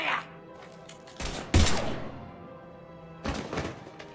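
Gunfire in the video game Mass Effect 3, a few loud separated bursts and thuds with a heavy impact in the middle, over a quieter game backdrop.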